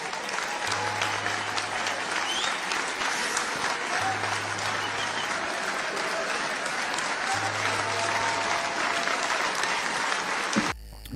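A large crowd applauding at a speech event, dense sustained clapping that stays loud and even throughout before cutting off abruptly at the end.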